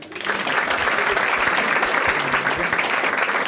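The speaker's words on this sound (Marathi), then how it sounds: "दोघांसाठी टाळ्या वाजवा" A stand-up comedy audience bursts into sustained, dense applause, many hands clapping steadily at close range for a few seconds.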